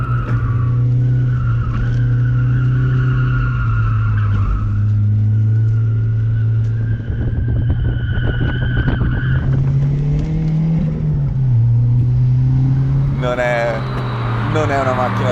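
A front-wheel-drive Lotus Elan M100 runs hard through a corner with a sustained engine drone and tire scrub under steady talking, then a brief rise in revs near the end.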